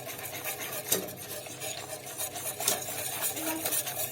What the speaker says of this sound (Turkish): Yumurtalı karışımı şimdi sütüme ilave ediyorum. Hızlıca çırpıyorum şu an.